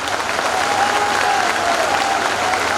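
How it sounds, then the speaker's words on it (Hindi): Thunderous crowd applause at a political rally, loud, dense and sustained clapping from a large gathering, with faint voices and a thin tone running underneath. "तालियों की गड़गड़ाहट से मेरी बात की समर्थन करो"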